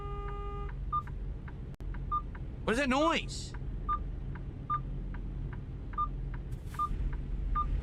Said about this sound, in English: That beep is, it's bothering me incessantly. It's hurting my ears.